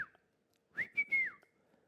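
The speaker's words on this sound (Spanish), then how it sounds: "Era como un silbido especial." A person whistles a special call, a short opening note followed by a few rising and falling tones in quick succession, close and clear against silence.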